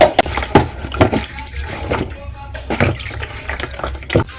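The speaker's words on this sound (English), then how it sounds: "I'm going to go in with some water and then I'll wash this out properly" Butternut squash washed under a running tap, with splashing water and several sharp knocks and handling bumps against the sink at irregular intervals, close and fairly loud.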